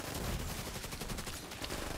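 Rapid automatic gunfire in the shooter game The Division 2, a dense continuous burst of shots filling the whole moment, loud and close with no pauses.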